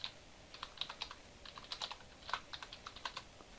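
Keys clatter on a computer keyboard in quick irregular bursts, close and fairly quiet, with short pauses between runs of clicks.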